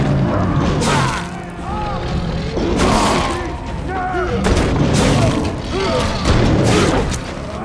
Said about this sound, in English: I think I'll set up my berserk bombs. We'll start hitting these guys with it.